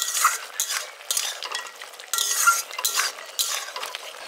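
A spoon stirs green chillies and fried lentil bori into a drumstick and potato curry, making repeated rhythmic scraping and clinking strokes against the pan over a faint sizzle, close up, with no one talking.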